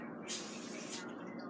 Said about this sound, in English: take a little bit of this oil, like cooking spray, I guess, and we're going to lightly grease it